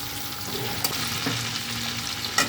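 Raisins and capsicum frying in hot oil in a pan, a steady close sizzle with a few soft stirring knocks.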